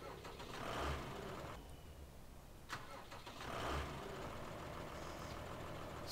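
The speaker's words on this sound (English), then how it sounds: "Oh, I like the sound of that engine." A tractor engine in Farming Simulator 15 runs steadily at a low rumble, with periodic swells in volume, fairly quiet and without talk.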